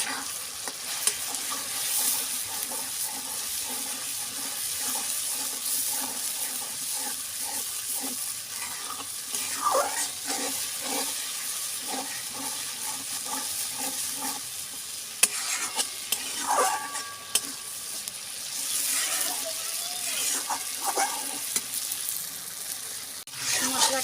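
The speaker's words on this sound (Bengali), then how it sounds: "সুন্দর করে আমি কষিয়ে নেবো" Spice paste being stir-fried in oil in a pan for a chicken curry, steady sizzling with intermittent scraping stirs of a spatula, moderately close.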